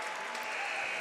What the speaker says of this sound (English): Some sarcastic clapping from the Indiana fans.